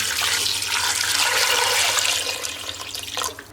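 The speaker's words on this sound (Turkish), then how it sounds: "Ve içerisine suyu ilave ediyorum." Water pours from a tap into a cooking pot holding soaked chickpeas and meat for Adana-style topalak soup, a loud, steady rushing splash that tapers off near the end.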